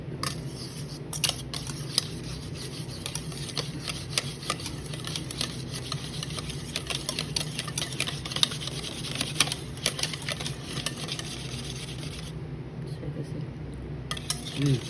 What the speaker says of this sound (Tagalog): Cider vinegar, and then the black pepper and salt, and then we're gonna mix it.